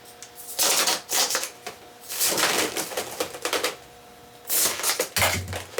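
Scissors snip through the ends of balloons in several quick bursts of crisp cutting, with short pauses between each run.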